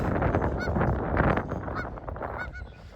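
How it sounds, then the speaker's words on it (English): Geese and other waterfowl at a lake that has just thawed in April, honking repeatedly in an overlapping flock chorus, loud and close over a steady outdoor background. "the lake is finally unfrozen, and we got all the waterfowl showing up this time of year."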